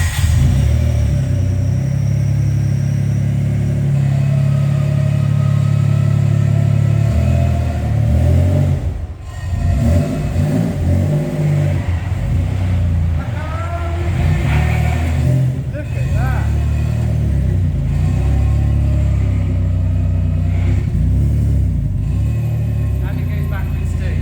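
A Nissan M35 Stagea with an all-wheel-drive manual swap rumbles and revs on its first drive on a closed course, a loud steady engine drone under someone talking.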